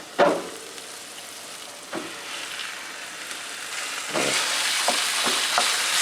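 A pound of ground lamb drops into a pan of browned onions and garlic with a loud initial thump, then sizzles steadily, the frying hiss growing fuller, with a few scrapes along the way.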